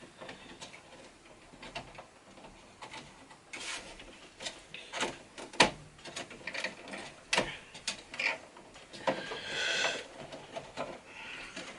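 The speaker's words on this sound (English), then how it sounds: "we can go ahead and remove some cables to get to the heat sink" Plastic clicks and soft clatter of cables being unplugged and pulled from a server to reach its heat sink, an irregular run of sharp close taps and rattles with no talk.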